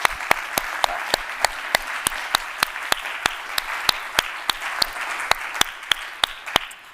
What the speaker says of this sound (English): I think all the SIDA team deserve a massive round of applause.